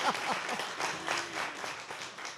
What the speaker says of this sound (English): Big round of applause for Adam.